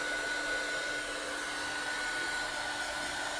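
Hair dryer blowing on silver paint over air-dry clay, a steady, loud whooshing hum with a faint whine, close and continuous throughout.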